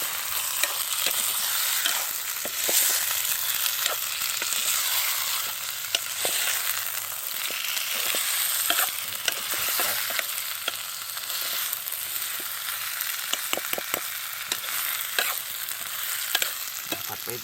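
Seasoning ingredients stir-fried in a pan at a fishing campsite, with a steady sizzle and repeated scraping and stirring clicks throughout, close and moderately loud, with no talking.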